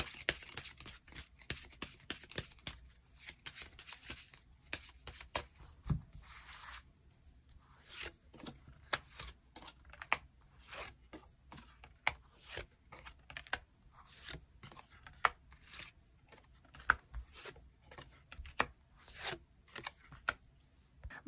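Tarot cards are shuffled and drawn, making a long series of sharp, close flicks and slaps in an irregular rhythm, with a brief quiet gap early on and no talk.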